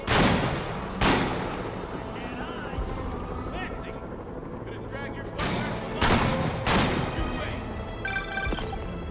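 Gunfire in Marvel's Spider-Man Remastered: sharp shots from sniper rifles crack out in scattered bursts over an ongoing game soundscape, loud and near.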